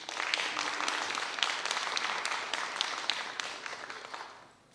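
A talent show audience applauds with steady, dense clapping that fades out toward the end.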